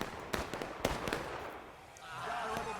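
Artillery fire in a Civil War battle game: several sharp booms at irregular intervals, a few close and loud and others softer, over a low background rumble.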